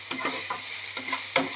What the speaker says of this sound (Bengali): থোড়টাকে আমি একটু ভাজা করে নিচ্ছি